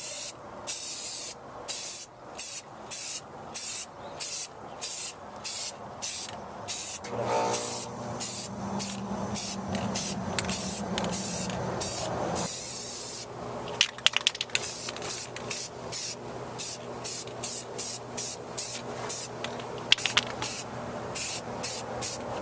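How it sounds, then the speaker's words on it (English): A spray can of caliper paint hisses onto a Ford rear differential cover in repeated short bursts with brief pauses, close and loud, with a longer continuous spray and some mechanical clatter partway through. "I'm going to hit it with some caliper paint and see"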